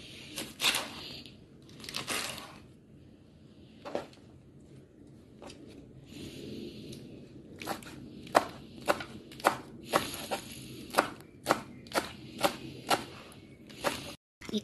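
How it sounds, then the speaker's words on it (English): A knife slices kailan into thin pieces on a chopping board, with a steady run of crisp, close knocks that quicken into an even rhythm toward the end. "Cut the kailan to thin slice"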